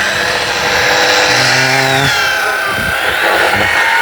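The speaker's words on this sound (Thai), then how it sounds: "กำลังปาดไม้" Saw cutting through timber to join a post in a Thai carpentry setting, a steady loud rasping drone throughout with shifting pitch as the blade works the wood.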